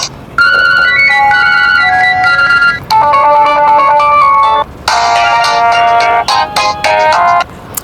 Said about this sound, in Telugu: డిఫాల్ట్గా మనకి కాంటాక్ట్స్కి రింగ్ టోన్ కూడా ఉంటుంది